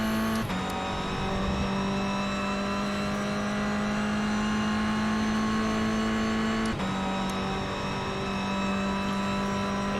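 A race car engine holds a steady high-pitched drone on throttle around the New Jersey Motorsports Park circuit in the iRacing simulator, with a brief shift-like break near the start and another later, loud and continuous without talk.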